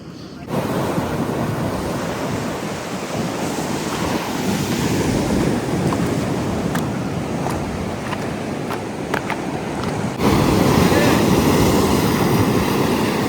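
Steady sea waves wash and surge close by with rushing wind noise as the tide rises at Harihareshwar on the Konkan coast, growing louder and fuller toward the end.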